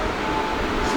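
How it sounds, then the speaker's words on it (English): Express train whizzing past in Japan, heard from on board another train: a steady, dense rushing roar with rail rumble filling the whole second at close range. "Express train just went whizzing by us."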